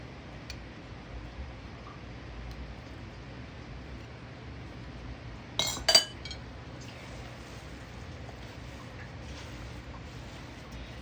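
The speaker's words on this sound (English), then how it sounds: "Clean the spatula off." A spatula knocked and scraped clean against a bowl while baking oatmeal coconut cookies with chocolate chunks and walnuts: a couple of quick, close clinks in an otherwise quiet kitchen.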